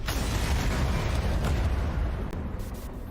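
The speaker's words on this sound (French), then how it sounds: "Mais maintenant, il n'y a plus que des manifs. Des explosions." Sustained, dense rumbling explosions from a Ubisoft video game trailer shown at E3 2019, loud and continuous throughout with heavy low-end booms and no talking.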